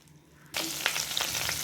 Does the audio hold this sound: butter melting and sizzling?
yes